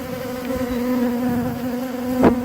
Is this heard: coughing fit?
no